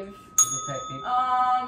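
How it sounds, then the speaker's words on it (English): A bell gives a sharp strike and then a sustained ringing tone that hangs steadily in the air, with faint voices murmuring underneath. "That's a fucking bell."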